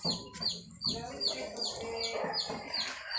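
Chickens cluck in a backyard coop among pigeons, several short repeated calls overlapping at close range, with a faint voice murmuring underneath.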